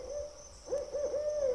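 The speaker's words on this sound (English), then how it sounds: "So that owl was close." An owl hoots close by in a short burst of a few wavering, warbling hoots over faint steady background hum, with no talk.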